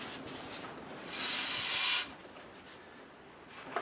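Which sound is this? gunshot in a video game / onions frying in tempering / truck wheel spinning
truck wheel spinning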